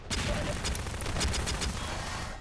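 Rapid bursts of gunfire crackle through a Half-Quake deathmatch, sharp repeated shots overlapping in a dense, fast rhythm at close range.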